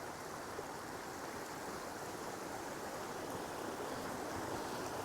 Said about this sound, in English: we're crossing over Camper's Creek right here